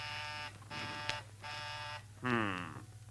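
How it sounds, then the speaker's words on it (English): A doorbell buzzer sounds three steady buzzes in a row, followed by a shorter, wavering buzz, all fairly faint. "There's someone ringing the doorbell."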